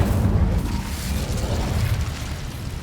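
An Incendio fire spell is cast in Hogwarts Legacy, producing a loud, rumbling whoosh of flame. The sustained low roar and crackle last the whole moment.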